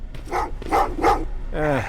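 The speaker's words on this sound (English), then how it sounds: "Well, what's with the dogs?" Dogs in the video game Terminator: Resistance give a quick burst of barks and a growl, three sharp close barks followed by a whining, throaty snarl.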